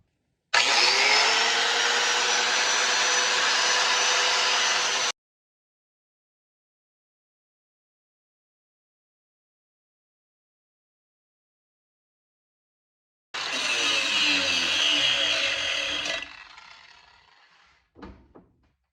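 A handheld power tool grinds a slot wider in a metal bracket to fit a bolt for a shop hoist on an i-beam, two loud bursts of steady whining separated by a long silence, the second run winding down into a few clicks.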